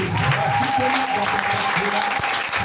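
A church congregation applauds steadily through a worship service, the clapping dense and continuous at a consistent level, with some voices and a faint sustained tone mixed in beneath it.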